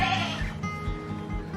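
A newborn goat kid on a farm bleats shortly after a difficult birth, one or two short wavering cries close by, with quiet background noise.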